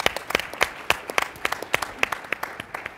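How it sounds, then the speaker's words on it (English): Sparse applause at a 2013 Good Jobs, Green Jobs conference plenary, heard as quiet, evenly spaced claps in a steady rhythm, like a small number of people clapping at a distance. "applause for that."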